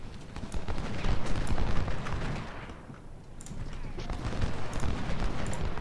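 Dense, continuous battlefield rumble of artillery and gunfire from the Ultimate General: Civil War strategy game, heavy booms and crackling volleys running throughout, dipping briefly midway before swelling again, with speech mixed in.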